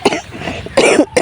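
A person indoors on a hot, windy evening gives a few harsh, close coughs in quick bursts, separated by short pauses, with no talking.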